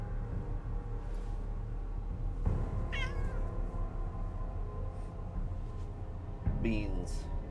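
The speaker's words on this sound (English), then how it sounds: "Cat. Cat. You need to shush." A cat meows a few times in the video game Deliver Us Mars, short wavering cries rising over a steady low hum and ambient game sound, with a person talking nearby.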